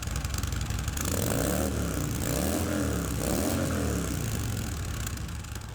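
A motorcycle running on its stock exhaust system, a steady loud engine drone with rising and falling pitch sweeps as it revs, heard alone with no talk.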